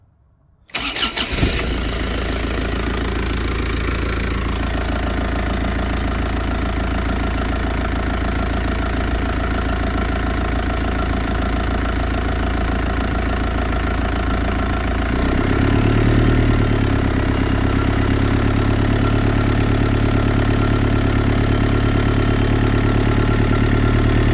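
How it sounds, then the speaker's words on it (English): A Mazda Bongo diesel engine turns over after a fuel filter change, catches and settles into a steady, loud idle close by, with a slight shift in tone partway through and no talking. "So we're idling quite nicely there."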